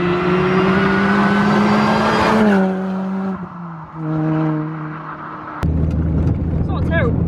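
A modified Mini Cooper S track car being driven, its engine note droning with steady tones that shift down through gear changes, then rise again in a renewed loud roar, with some speech mixed in.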